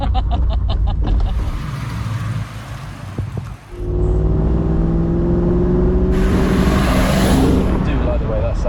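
A Triumph Stag sports car's engine hums and revs under steady driving, with a pitch rise and road rumble, while people talk inside the cabin.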